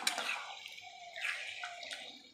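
Water is poured into a pan of cooking chicken, a soft splashing hiss that swells twice and trails off, fairly quiet.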